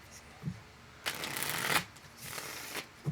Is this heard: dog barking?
no